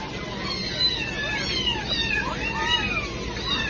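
Several house cats meow indoors, their high sliding cries overlapping faintly against steady background hiss.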